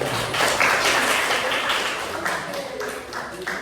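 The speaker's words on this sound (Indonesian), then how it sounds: "Oke, tepuk tangan dulu." A group claps hands together during a teacher-led session. The steady, moderately loud patter of overlapping claps continues for a few seconds, with some voices mixed in.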